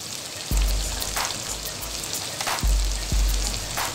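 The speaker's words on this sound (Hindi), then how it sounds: "अदरक का पेस्ट उसको मैंने थोड़ा सा भून लिया है" Ginger paste sizzles and fries in a pan, a steady crackling hiss with a few louder pops and spits, close and alone with no talking.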